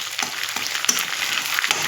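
Fish roe frying in a pan with golden onions and green chili, a bright steady sizzle with a few stirring scrapes, close and alone.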